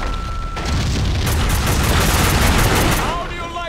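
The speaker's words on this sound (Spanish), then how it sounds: "Dale, que explota todo." Explosions and rapid gunfire from the Max Payne 2 video game, a loud, dense barrage of booms and shots that fills the clip before easing off at the end.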